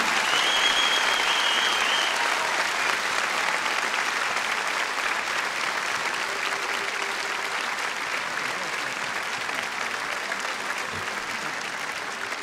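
A large concert-hall crowd at a folk music concert claps in a sustained, dense wash of applause that stays strong and even, easing only slightly over twelve seconds.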